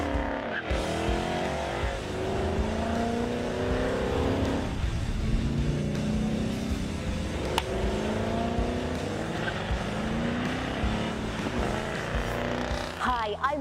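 A 2016 Ford Mustang GT with its 5-litre V8 revs and accelerates, the engine note rising and falling through gear changes with some tyre noise, loud and close, while people talk over it.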